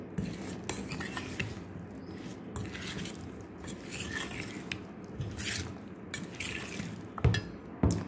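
Mango pickle being mixed with a spoon in a dish, with wet squishy stirring and repeated metallic clinks of the spoon against the container, close and moderately quiet.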